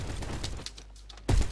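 A shotgun blast in the video game Bad Business, one loud close boom near the end after a quieter stretch of background game noise.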